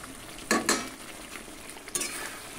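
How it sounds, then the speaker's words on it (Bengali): Fried potatoes are stirred into a spice masala in a pan, with two short scraping bursts of a spoon against the pan, close by, over a low background. "ভেজে রাখা আলু দিয়ে খুব ভালো করে কষিয়ে নেব।"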